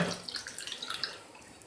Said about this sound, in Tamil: ஒரு 1/2 கப்பு தண்ணி ஊற்றிக்கிறோம்